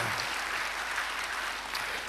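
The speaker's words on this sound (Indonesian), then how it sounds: "Beri tepuk tangan yang baik buat dia" Applause from a church congregation during an Indonesian-language sermon, a steady wash of many hands clapping, moderately distant and even throughout with no talk over it.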